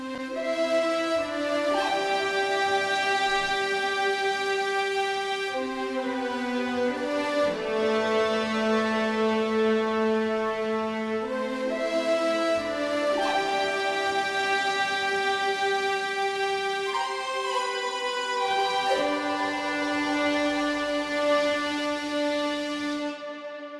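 Spitfire Audio orchestral library playing two melodies layered together, a sustained orchestral passage with moving lines over held tones, steady and full for about twenty-four seconds, no voices.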